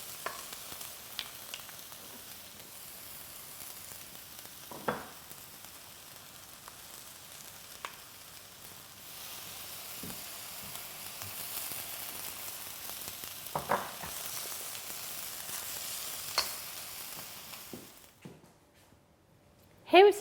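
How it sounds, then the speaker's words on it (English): Meat stir-frying in a hot round-based wok on a hob gives a soft, steady sizzle, with occasional light scrapes and stirring taps rising now and then, fairly quiet and close. "The wok cooks meat very quickly on the hot round base."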